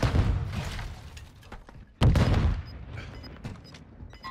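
A frag grenade explodes in a first-person shooter video game: a heavy blast opens the clip and a second loud boom hits halfway, over a steady wash of distant combat noise and scattered gunfire.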